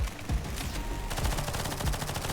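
An AK assault rifle fires fast automatic bursts in the shooter NIMRODS, close and punchy, with a brief lull after an opening few shots before a tight, even stream of rounds.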